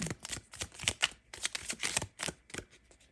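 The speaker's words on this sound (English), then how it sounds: "Oh, I'm shuffling upside down." Tarot cards being shuffled close up: rapid, uneven bursts of riffling and flicking that start and stop repeatedly, fairly quiet, with no talk.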